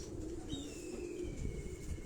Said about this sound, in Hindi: डॉक्टर साहब के अपने घर के ये कबूतर हैं